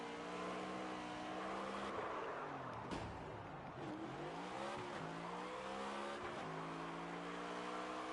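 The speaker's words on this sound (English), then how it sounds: "Doing burnouts." A race car doing burnouts in the NASCAR 25 video game, the engine revving hard with rising and falling pitch sweeps and tire squeal over a constant, fairly quiet roar, no voices.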